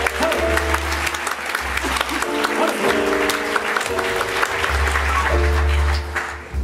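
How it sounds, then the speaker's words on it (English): Applause from a theater audience at a magician's live stage show, loud and sustained for several seconds, with a low musical drone and some voices mixed in beneath the clapping. "A round of applause as she returns to the seat."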